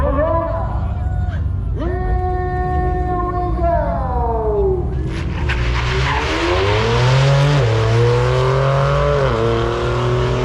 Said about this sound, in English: Want to hear the Cybertruck launch?